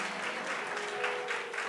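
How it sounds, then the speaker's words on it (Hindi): Church congregation applauding together in a steady, dense wash of clapping, moderately loud and continuous throughout, with a faint hum underneath. "जोर से ताली बजाओ"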